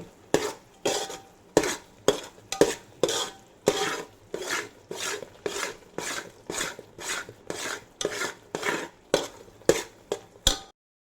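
A mohanthal mixture of gram flour roasting in ghee is stirred in a pan, a regular series of about a dozen scraping strokes in an even rhythm, close and clear with no talk.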